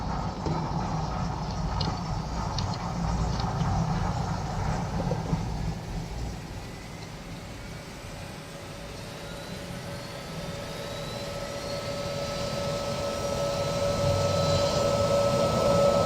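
Airbus A220 jet engines spool up in the Project Flight game, starting one after another in an Air Baltic airliner; a steady broadband roar with a rising whine builds and holds throughout, loud and continuous without talk.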